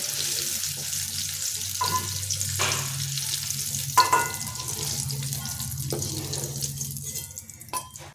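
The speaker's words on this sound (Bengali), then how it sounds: "ফুলকপিগুলো একটু কালার ধরা অবধি ভালো করে ভেজে নিলাম" Cauliflower pieces fry in hot oil with a soft, even sizzle, broken by a few scraping stirs and clinks of a utensil against the pan.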